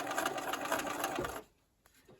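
Sewing machine stitching pieced fabric for a granny-square table topper, a steady close whirring run of fast stitches that stops abruptly, leaving near silence with a faint click.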